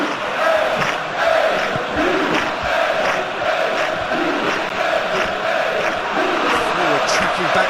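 Stadium crowd in an eFootball PES match between USA and Indonesia, a steady loud roar of cheering and chanting that holds without pause through the whole stretch.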